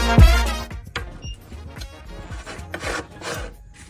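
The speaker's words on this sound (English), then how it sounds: "Let's get the spanner out, tighten that up." Spanner tightening a Sealey jack during a repair: a few scraping, rasping metal-on-metal turns and clicks, close and irregular, with short pauses between strokes.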